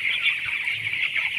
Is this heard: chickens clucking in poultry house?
yes